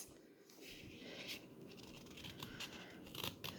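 Scissors cut through folded paper to shape a heart, making a steady run of quiet, crisp snips and rustles close by, with a few sharper cuts toward the end.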